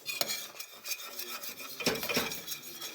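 A spoon scrapes and stirs sugar into rice pudding in a pot, with rhythmic rasping strokes and light metallic taps, close and fairly quiet.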